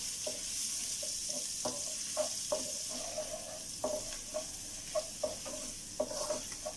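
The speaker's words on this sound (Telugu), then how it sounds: "ఈ క్యారెట్ కూడా ఒక 2 మినిట్స్ మనం ఫ్రై చేసుకోవాలి" Carrots and green chilli frying for chicken fried rice give a steady soft sizzle, with regular light stirring clacks from a spatula over it, fairly quiet and close, no talking.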